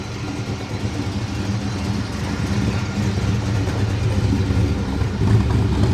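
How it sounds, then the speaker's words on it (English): A Corvette engine rumbles past at a Mecum collector car auction in Kissimmee, a deep, steady low-frequency drone that swells slightly toward the end amid a busy outdoor crowd backdrop. "That Corvette sounded really nice. That just passed by."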